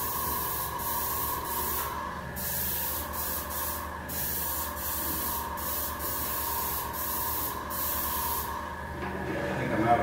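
An aerosol spray can lays down paint for a two-tone paint job in a close, hissing spray with a few brief pauses between passes.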